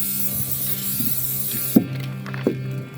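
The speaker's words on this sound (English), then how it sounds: "So we're going to use the Gorilla spray adhesive that we've already got." A can of Gorilla heavy duty spray adhesive hisses steadily for under two seconds during an indoor basement build, then stops, followed by a couple of short mechanical clicks.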